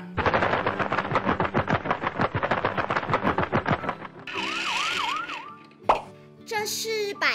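Toy transforming bus in police car form: a rapid burst of clicking and rattling, then a short warbling siren tone, followed by a few clunks and electronic sounds.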